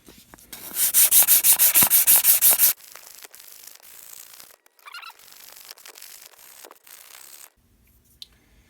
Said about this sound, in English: it really cleaned up so much better with the sandpaper